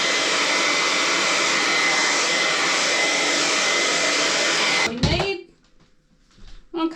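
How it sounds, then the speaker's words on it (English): A hair dryer blows with a loud, steady roar for about five seconds, then cuts off abruptly, leaving quiet handling sounds. "I had to get the hair dryer out because it just wasn't drying fast enough"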